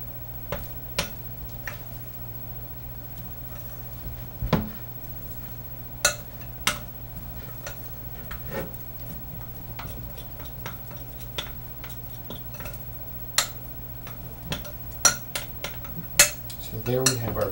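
Drop biscuit dough is stirred in a bowl, a spoon tapping and clinking against the sides in irregular sharp knocks over a quiet background, picking up into quicker clatter at the end.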